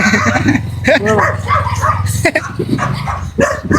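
Village dogs bark at night, with repeated yelping barks mixed in under someone talking close by throughout.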